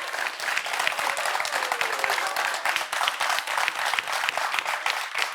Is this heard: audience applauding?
yes